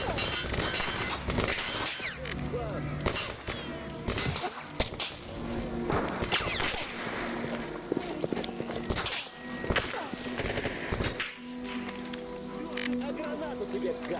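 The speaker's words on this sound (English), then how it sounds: "Lots of gunfire still rocking around me." Dense gunfire crackles in Stalker: Shadow of Chernobyl, a Radiophobia 3 mod level set in Pripyat, with sharp repeated shots and impacts over a constant busy game background and someone talking over it.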